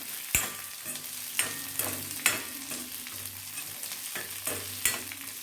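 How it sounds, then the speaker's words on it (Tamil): Onions sautéing in a pan for radish chutney, with repeated stirring scrapes and clicks of a spatula over a steady low sizzle, close and moderately loud, no talking. "வெங்காயம் கொஞ்சம் வதங்கினா போதும் ரொம்ப வதக்க தேவையில்லை"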